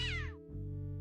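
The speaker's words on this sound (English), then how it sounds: "Oh, a cat." A single cat meow from the Day of the Tentacle Remastered video game, falling in pitch over about half a second before giving way to steady game background music.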